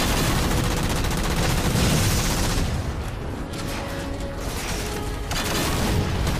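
Heavy gunfire from the Halo 4 video game rattles continuously in dense automatic bursts with booming impacts, loud and sustained throughout, no voices.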